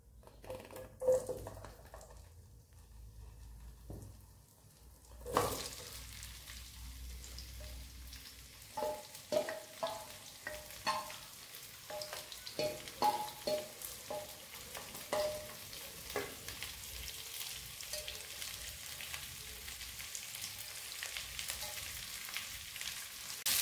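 Amla gooseberries and black cumin seeds sizzle in a little oil, a soft steady frying crackle that begins after a sudden drop into the pan and continues with scattered pops, with no talking.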